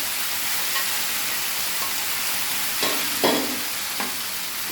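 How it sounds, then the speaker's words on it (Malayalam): Onions frying in a pan over a medium flame, a steady soft sizzle throughout with a few brief scraping stirs, close and fairly quiet with no talking. "മീഡിയം ഫ്ലെയിമിൽ ഒരു സവാള ഇട്ടതിന് ശേഷം ഒരു 4 മിനിറ്റ് ആയിട്ടുണ്ട്"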